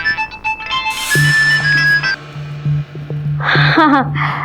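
A phone ringtone plays a bright melodic tune for a couple of seconds, followed by a short burst of a voice over a steady low hum.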